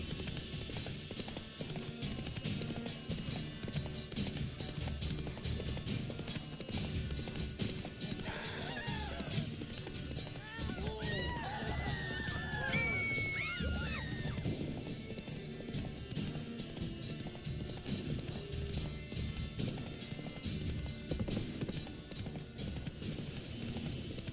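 A horse gallops with fast, rhythmic clip-clop hoofbeats in the video game Witcher 3, steady throughout, with a neigh partway through over a busy game soundscape.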